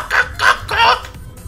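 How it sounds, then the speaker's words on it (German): Chickens in the video game Minecraft give three quick clucking calls in a row, close and clear, followed by a short quiet gap. "Oh, guck mal, ein paar Hühner."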